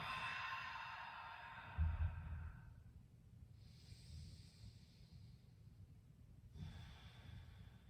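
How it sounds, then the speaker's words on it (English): Slow breathing during a yoga stretch, with a loud nasal exhale near the start followed by quieter, softer breaths close to the microphone. "Breathing here."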